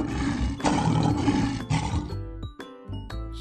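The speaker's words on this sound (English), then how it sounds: "Lion." A toy lion plays a loud electronic roar, a long rough growl that breaks into several surging pulses before cutting off into short clipped bursts, heard alone and up close.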